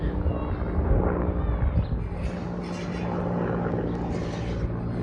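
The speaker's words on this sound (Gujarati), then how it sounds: "અહીંથી જો હેલિકોપ્ટર નીકળ્યું છે અત્યારે" A helicopter's low, rumbling rotor drone fills the air overhead, steady and fairly loud, with faint voices under it.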